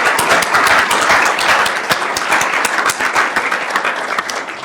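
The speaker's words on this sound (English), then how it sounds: "please give a round of applause to our panelists" An audience at a conference panel on early-stage due diligence applauds the panelists, with dense, sustained clapping that fills the room at steady volume and tapers only slightly toward the end.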